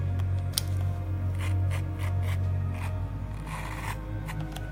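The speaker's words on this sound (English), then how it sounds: "you're going with your scissors and a comb, just to make sure you've not missed anything" Scissors and a comb trim hair during a men's skin fade haircut, a soft run of rapid snipping and rubbing strokes close up over a low steady hum.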